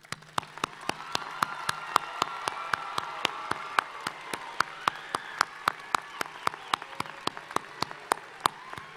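Applause at a December commencement ceremony, heard as faint, distant clapping with sharp, evenly spaced claps standing out from a quiet crowd, with no talk.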